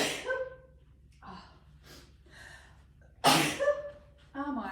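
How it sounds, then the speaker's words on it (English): A person working on quilt embellishments sneezes, a short burst of sharp nasal exhales and gasps. Quiet breaths and faint voicing fall between the bursts, and one stronger sneeze comes near the end. "I'm going to sneeze"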